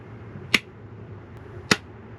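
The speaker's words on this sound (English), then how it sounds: "That's what I need for dramatic effect when I clap all the time." Hand claps for dramatic effect inside a DIY truck camper, two sharp crisp claps about a second apart, close and alone over a quiet background.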